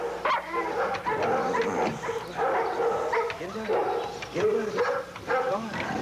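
A Belgian Malinois police narcotics detection dog, in training with the Royal Dutch Police, gives repeated yelping barks and whines while indicating a find beside a car, close and loud, with people talking in the background.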